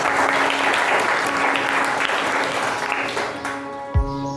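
An indoor audience claps for Dashrath in dense, sustained applause that fades at the end, followed by a single low thump.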